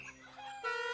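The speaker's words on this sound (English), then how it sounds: "Chickens? Farm? What's going on down there?" Cartoon chickens cluck on a farm in a Woody Woodpecker short, a quick, faint burst of fowl noises lasting about a second.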